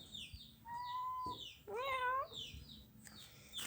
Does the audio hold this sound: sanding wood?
no